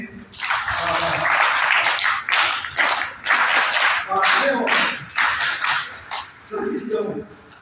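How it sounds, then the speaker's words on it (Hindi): An audience at an Arya Samaj lecture hall claps in bursts of rapid hand claps, fairly close, with short gaps between bursts and some voices heard near the end. "शाबाश, ताली बजाएंगे।"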